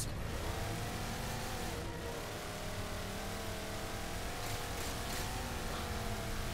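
A Warthog vehicle from Halo 4 drives with a steady, droning engine hum that rises and falls slightly as it revs, heard at moderate distance with no talk over it.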